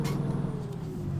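Video game traffic with realistic cars and trucks produces a low, steady engine rumble and droning hum in a short continuous burst, with no talking.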